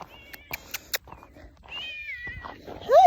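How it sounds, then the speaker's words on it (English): A cat meows several times up close, ending in a louder, drawn-out meow, with faint taps and background noise between calls. "There's a kitty!"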